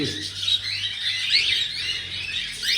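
Black-headed lovebirds in a flight cage chirp and twitter continuously, with many overlapping bright calls from a nearby flock over a low background hum.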